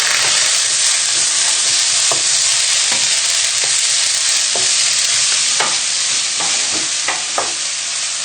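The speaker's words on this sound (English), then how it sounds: "So we can add in our lentils now. And then give them a good stir around." Lentils sizzling in fat in a pot make a loud, continuous frying hiss broken by repeated scrapes and knocks of a spoon as they are stirred, close up with no talk.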